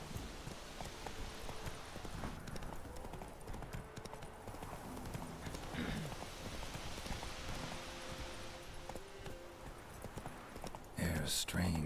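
Roach the horse gallops in The Witcher 3, a steady run of hoof clip-clops throughout, close and fairly loud under game ambience, with a rider's voice and a brief burst of noise near the end.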